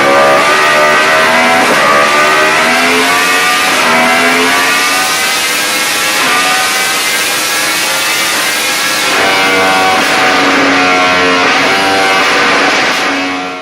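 A Yamaha R1 crossplane sportbike fitted with an Austin Racing exhaust roars loud and close, its uneven crossplane bark rising and falling through repeated revs with a sustained, harmonically rich drone and no talk.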